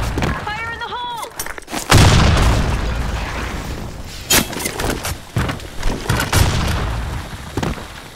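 A grenade blows up in the online shooter BlackShot with a loud, booming blast and a long rumbling tail, surrounded by gunfire pops and game announcer voice lines.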